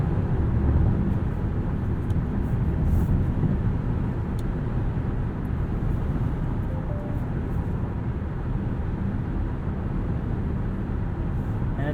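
A 2022 Nissan Pathfinder Platinum 4WD with a V6 engine is driven, giving a steady low drone of engine and road noise from inside the cabin. The drone holds even and continuous throughout, with no talk over it.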